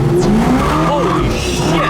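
A 1970 Camaro restomod accelerates hard with its tires squealing, a loud, close screech over engine roar in a short burst, with a voice mixed in.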